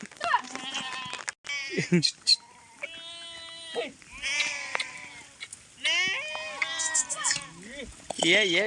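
Goats and sheep in a herd in the Gir forest during the rainy season bleat repeatedly, with overlapping calls near and far and a brief loud knock partway through.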